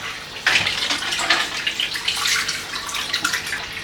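Tap water runs steadily in a home kitchen while a kettle is filled, a close, continuous splashing hiss with small fluctuations and no talking.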